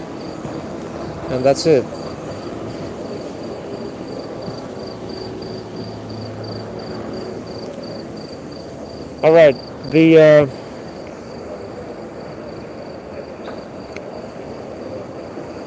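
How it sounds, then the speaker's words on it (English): Crickets chirp steadily at night outdoors, a dense high continuous trill filling the background, with someone talking briefly near the start and a couple of short bursts of speech later. "the crickets are making a huge amount of noise"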